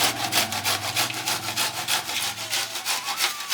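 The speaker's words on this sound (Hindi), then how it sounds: "यही तरह रगड़ रगड़ के कुल गोभी घिस देवा" Cauliflower is grated by rubbing it by hand on a grater, giving a fast, even series of loud, close rasping strokes with no talk.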